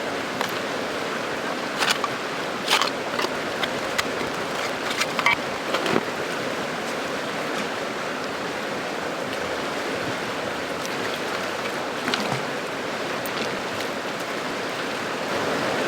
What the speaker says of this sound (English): The river came up a lot, so we can't even get to the good spots.